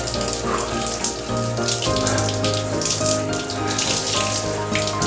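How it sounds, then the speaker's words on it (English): Cold shower water pours steadily and loudly, a continuous close splashing hiss with no voices over it. "Probably the coldest shower I've ever taken."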